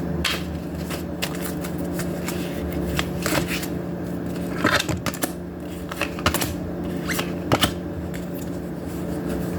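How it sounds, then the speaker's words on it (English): Oracle cards from a mermaid deck being pulled and shuffled, giving repeated soft riffling flutters and sharp flicks over a steady low hum, with no talking. "Now I'm going to pull some cards from the mermaids."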